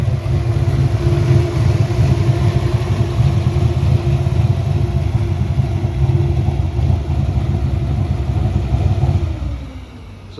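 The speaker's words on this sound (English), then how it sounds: "you can definitely hear the turbo in that exhaust" A turbocharged 1993 Ford Mustang Cobra replica runs with a loud, steady, close exhaust drone and engine rumble, then fades and drops off near the end.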